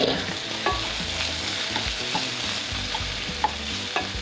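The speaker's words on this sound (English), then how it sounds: "bringing all of those great vegetables together and sauteing them up" Vegetables for a vegan cheesesteak sauté in a hot pan, a dense continuous sizzle punctuated by repeated light scrapes and taps of a spatula turning them.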